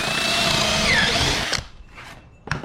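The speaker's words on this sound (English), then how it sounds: "we're going to drill these three, those three, bolt it together" A power drill whines steadily for over a second while boring bolt holes for a piano dolly, then stops, followed by a couple of brief mechanical clacks.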